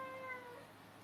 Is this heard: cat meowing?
yes